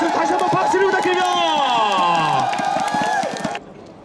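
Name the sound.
baseball fans applauding and cheering a player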